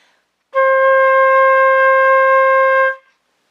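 On a flute, a single sustained C rings pure and steady for about two and a half seconds, starting cleanly after a short silence and fading out alone.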